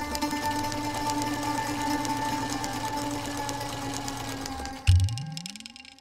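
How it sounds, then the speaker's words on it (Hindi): A sewing machine runs steadily with a fast mechanical whir, then abruptly stops with a clunk as the motor winds down. "ये लल्ला भी ना सिलाई मशीन लाके मेरे कमरे में रखवा दिए।"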